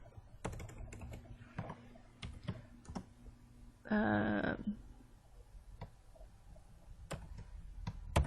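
Computer keyboard typing, a few close, crisp key taps spaced irregularly, interrupted by a short electronic chime-like tone in the middle.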